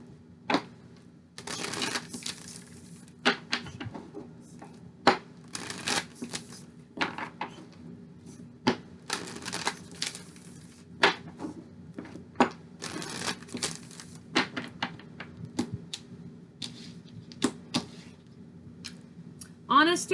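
Tarot cards shuffled and handled during a love reading, giving a steady run of soft riffling and crisp card snaps close by, with no speech.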